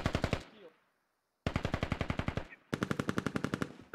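Sustained machine gun bursts in the video game Squad, loud and close, laying down suppressive fire in three long rapid strings separated by a short pause, with no talking.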